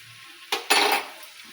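Turmeric powder being stirred into frying flattened rice (avalakki chuda) in a pan, a brief burst of scraping and sizzling after a quiet start, close and without talk.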